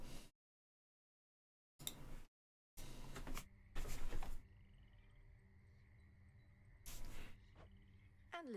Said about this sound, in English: And listen to the frogs.